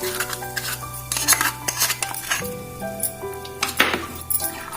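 Cooled spice mixture being stirred into cucumber pickle in a bowl, giving close, repeated clinks and scrapes of a spoon against the dish, irregular and busy with no talking.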